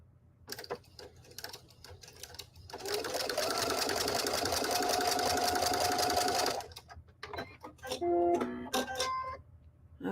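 Sewing machine stitching a snowball quilt block, one continuous steady run of about four seconds, close and clear, framed by clicks and handling noises with a few higher chirps afterward.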